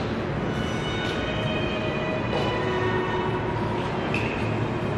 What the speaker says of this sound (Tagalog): nakasakay na kami sa tram